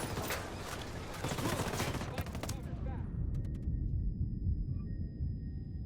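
Rapid bursts of gunfire in the tactical shooter Tom Clancy's Wildlands, dense and continuous for the first few seconds, then fading into a low rumbling background with a few thin high tones.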